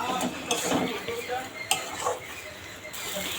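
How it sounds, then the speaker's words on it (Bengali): Spoon scraping and stirring a thick pumpkin barfi mixture with rice flour and ghee in a pan, repeated metallic scrapes with faint sizzling, close up. "এইভাবে কিন্তু নাড়তে থাকা লাগবে, নইলে কিন্তু তলায় লাগিয়ে যাওয়ার পায়"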